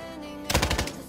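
A short rapid burst of machine gun fire in the video game Call of Duty: Modern Warfare, loud and close after a moment of quiet hum, with no voice.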